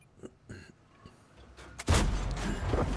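Tank cannon fire in World of Tanks, a few distant muffled shots followed by a loud close blast that rumbles on through the end.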